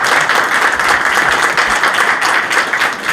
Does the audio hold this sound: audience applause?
yes